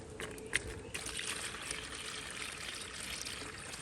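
Fresh water pours and splashes into an animal's dish outdoors nearby, a soft steady trickle with a small clink near the start, fairly quiet throughout.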